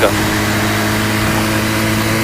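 A Zipp Raven Lux 125 motorcycle's inline two-cylinder 125 cc engine runs with a steady, even drone at a constant pace, loud and close, with a voice talking over it.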